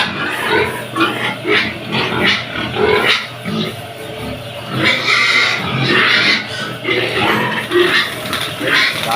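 Pigs on a Philippine livestock farm grunt and squeal continuously at close range, a dense, busy chorus of several animals with intermittent louder bursts throughout.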